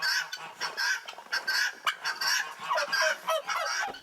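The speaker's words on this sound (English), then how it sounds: "I have 4 guinea hens, and I can't tell them apart" Guinea hens call from close by in a rapid, repeated series of harsh, honking squawks, several overlapping birds keeping up an uneven rhythm without pause.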